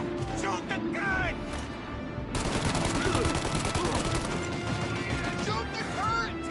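Rapid gunfire from a shootout in the video game Mafia Definitive Edition, with dense bursts of shots building after the first couple of seconds, heard alongside game voices and talk.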